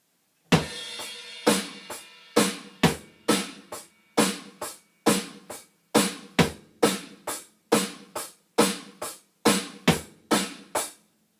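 A drum kit plays a steady groove with sharp snare hits, ticking hi-hat and thudding bass drum, evenly paced and alone, loud and close.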